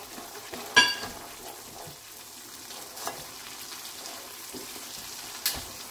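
Chopped almonds fry in a pan of suji halwa, giving a continuous soft sizzle with stirring scrapes and a few sharp spoon clinks against the pan.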